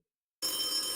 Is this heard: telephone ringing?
yes